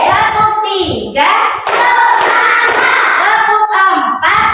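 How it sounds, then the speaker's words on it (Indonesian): A classroom of pupils claps along in a counted pattern, with sharp hand claps and chanting voices coming through together in a loud, busy group rhythm. "tepuk satu, tepuk dua, tepuk tiga"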